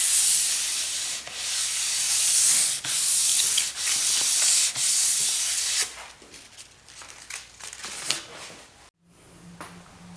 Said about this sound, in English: So now that I've sanded the entire surface